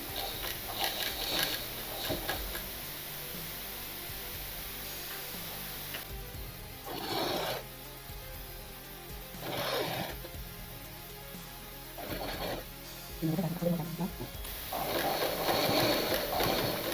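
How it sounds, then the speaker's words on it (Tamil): A sewing machine stitches the curved neckline of a baby dress in several short bursts of rapid whirring, separated by quiet pauses, with no talking. "வளைவில் தைக்கும்போது மெதுவாக வளைச்சி தைக்கணும்"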